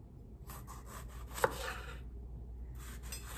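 A knife cuts a tomato into bite-sized chunks on a board, making a run of quiet, rapid scraping strokes with one sharper tap in the middle, close and soft with no talking.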